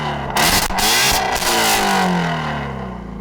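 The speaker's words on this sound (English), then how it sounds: "You've been talking a lot about the exhaust of these cars. What does this thing sound like?" A Ford Mustang V8 exhaust revs loudly up close, a deep throaty roar climbing and swelling, then easing back as the engine settles.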